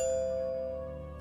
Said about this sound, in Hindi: अगले दिन घर की घंटी बजती है।